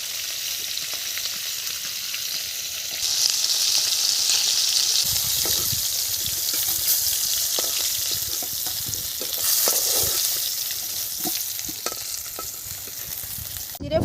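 Ayla fish fries in hot oil in a pan, a loud, dense sizzle that swells and spits in waves, with occasional clinks and stirring noises, close up and unbroken by speech.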